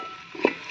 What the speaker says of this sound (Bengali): ভালোভাবে একটু দেখতেই পাচ্ছেন আলুর মশলাটা কষিয়ে নিচ্ছি